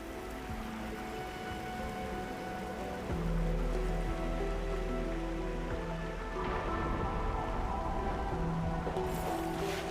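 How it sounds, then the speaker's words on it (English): Heavy rain pours steadily in the video game Arknights: Endfield, a dense, even hiss that thickens partway through as the downpour grows harder, with no talk. "It's raining harder. I can't hear anything except for the rain."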